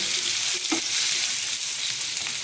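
Vegetables sauté in a pan with a steady, dense sizzle and hiss throughout, broken by a brief stirring scrape partway through.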